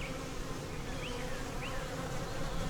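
Honey bees working in an opened hive: a dense, continuous low buzzing hum from many bees, close and steady, with a few individual bees flitting past in brief rising whines.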